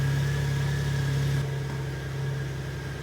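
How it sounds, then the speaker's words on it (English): A small motorcycle idling nearby, a steady low engine hum with a constant rumble and a slight drop in level partway through, alone with no talk. "There she sits, my little motorcycle."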